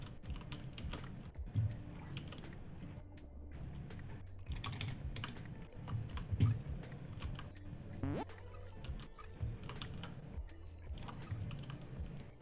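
Rapid clicking of computer keyboard typing mixed with sharp mouse clicks, steady and close, running throughout with occasional louder taps, picked up during a game session of Mind Over Magic.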